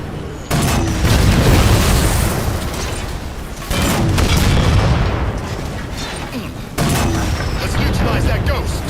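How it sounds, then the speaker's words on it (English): Bursts of gunfire and booming blasts in a Halo 4 campaign firefight, with heavy broadband barrages arriving in three loud waves and radio voices talking over the battle. "Receiving fire from contacts."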